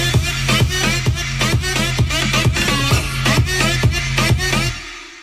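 Stacked synth layers of an electronic dance drop playing together, loud and dense, with punchy rhythmic hits driving steadily under bright buzzing tones before cutting off at the end.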